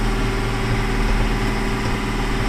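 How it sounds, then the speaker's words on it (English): A tractor engine runs steadily while driving, a loud, continuous low rumble with constant vibration and no voices. "Now we're driving this tractor that I've never driven before like a boss."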